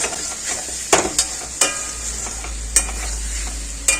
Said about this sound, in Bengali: রসুন পেঁয়াজ লঙ্কার গুঁড়া দিয়ে হালকা কষায় দিচ্ছি।